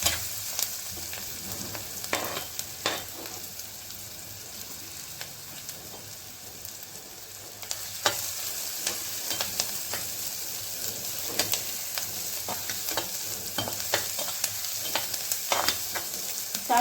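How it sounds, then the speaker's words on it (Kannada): Brinjal bartha frying and being stirred in a pan, a steady close sizzle broken by repeated sharp scraping strokes of the spatula throughout. "ಇಷ್ಟು ಫ್ರೈ ಆದರೆ, ತುಂಬ ಫ್ರೈ ಆಗೋದು ಬೇಡ."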